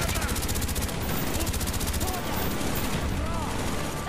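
Gunfire in Call of Duty Black Ops, with a shotgun in use: a steady, rapid train of shots fills most of the stretch, moderately loud over a busy game mix of ambient noise.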